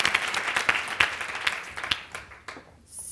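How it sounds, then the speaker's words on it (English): Audience clapping at a client success panel, a moderate round of applause with distinct claps that thins out and fades near the end. "Can I get a round of applause for Liz Bequist?"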